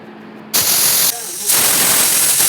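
A pressure cooker whistle releases steam while potatoes boil, giving loud bursts of hissing vapor with a brief pause between them.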